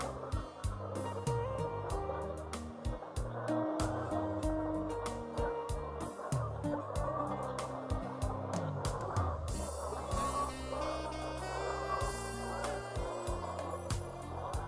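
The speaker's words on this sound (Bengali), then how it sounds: "এটা আমাদের তিন হাজার লেয়ার মুরগির একটা ব্যাস" Around three thousand laying hens in a poultry farm shed make a busy, continuous din of low clucking, with sharp clicks and pecking clatter throughout, heard at moderate volume with no talk.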